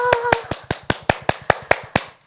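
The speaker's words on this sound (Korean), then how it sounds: "자, 한번 크게 박수를 한번 쳐봅니다." A group of seniors claps together in time for a health exercise, about ten sharp, evenly spaced claps over two seconds that stop abruptly, with a brief voice at the start.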